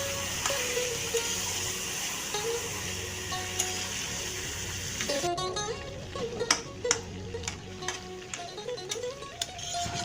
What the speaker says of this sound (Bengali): এখন মা মাখা করা মাংসগুলিও কড়াইতে দিয়ে দিচ্ছে দিয়ে একটু নাড়িয়ে দিচ্ছে